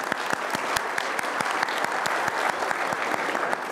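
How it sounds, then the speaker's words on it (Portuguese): Audience applause for a workshop report at a judicial seminar on Brazil's new civil procedure code: steady, dense clapping from a sizable crowd in a hall, even and sustained throughout with no talk over it. "Uma salva de palmas aí para a oficina."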